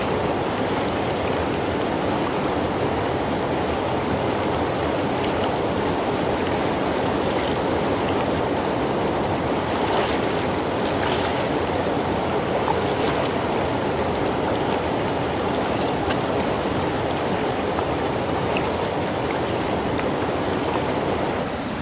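River water rushing steadily while someone wades across in Jerven gaiters, a dense, continuous wash of flowing water that stays close and loud throughout with no talking.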